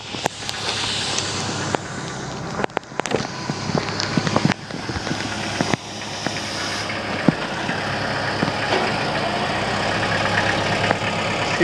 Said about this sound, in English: and they're gonna be making it with this big, lovely tractor.